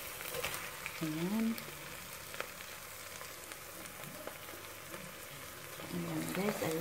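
Sardines frying in a pan while bihon guisado is cooked: a steady, fairly loud sizzle runs throughout, and a voice talks over it near the start and end.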